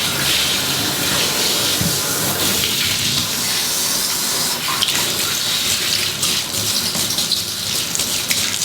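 Hot water running steadily from a tap into a sink while a muddy puppy's paws are washed, a loud continuous splashing rush throughout with no talking.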